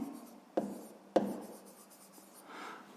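Pen or pencil writing out a sixth-grade math solution on paper, with two sharp taps as the pen touches down, then soft steady scratching strokes, close and quiet, with no talking.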